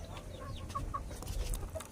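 A rooster being conditioned by its keeper gives soft, close clucks and short throaty calls over a quiet background, a few brief notes within a couple of seconds.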